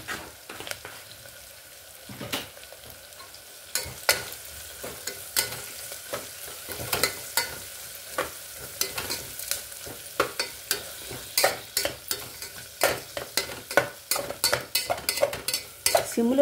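A bottle gourd and tomato curry with turmeric fries in a pan and is stirred, with a steady low sizzle broken by frequent sharp scraping and clinking strokes that come faster toward the end.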